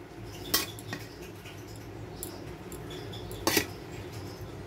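Rice for fried rice is stirred and tossed in a pan, with a few sharp metallic clanks of the utensil against the pan over a low, quiet background.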